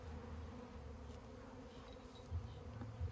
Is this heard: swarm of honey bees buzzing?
yes